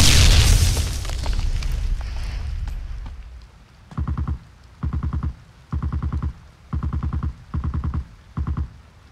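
A grenade blast in the shooter Ring of Elysium opens with a loud, close boom that rumbles and fades over several seconds, followed by a series of short, regular electronic pulses.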